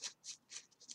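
A deck of playing cards is shuffled during a Shaddoll combo card game: quick, soft riffling swishes in a brief uneven rhythm, close but faint.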